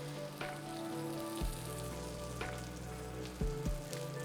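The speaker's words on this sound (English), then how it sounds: "Make sure you're getting that nice golden brown sear on the other side." Almond crusted salmon sears in a hot pan with a steady, close sizzle, and a few soft clinks and pops stand out over it.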